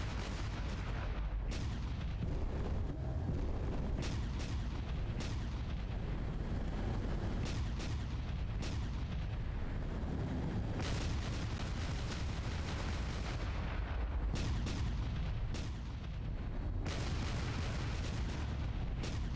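Video game gunfire and heavy explosive blasts keep up throughout, a dense, loud, continuous barrage of booms and rapid shots with no pauses or talk.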